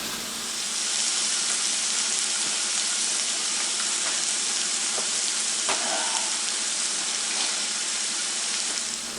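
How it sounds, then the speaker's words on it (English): Ground meat for a spaghetti meat sauce sizzles steadily in a hot pan as it browns, giving a dense, even crackle that lasts the whole time, with no voices. "Let that ground meat cook down a little bit more."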